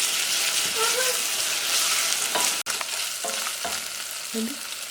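Ginger garlic paste is stirred into spices frying in a pan, loud continuous sizzling with a few scraping strokes of the spoon, close up and without talk.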